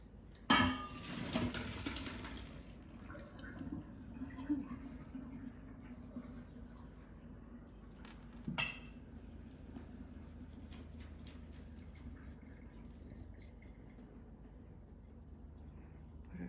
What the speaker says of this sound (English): So the pasta is done, and I'm going to strain it